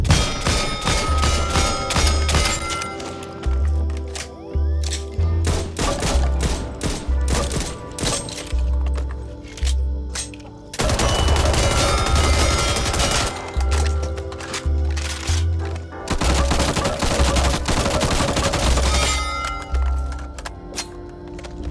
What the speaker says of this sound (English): I've always appreciated details when it comes to the way weapons fire, reload animations, the way they sound